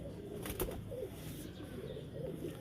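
Soft, low cooing from pigeons repeats in short phrases, mixed with a burst of wing flapping and faint rustling nearby.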